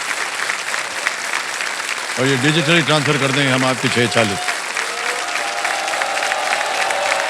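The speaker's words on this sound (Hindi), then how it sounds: "तालियां बज जाए इनके लिए।" Studio audience applause for a KBC quiz contestant on a TV game show set, a broad clapping wash that runs under the host's voice as he talks throughout, with a brief musical sting in the middle.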